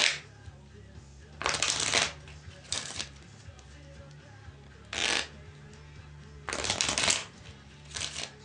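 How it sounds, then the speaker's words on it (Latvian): Playing cards shuffled by hand before a card trick, heard as several crisp riffling bursts of about half a second to a second each, separated by short quiet gaps, close and clear with no talking. "es paņemu un samaisu kārtas"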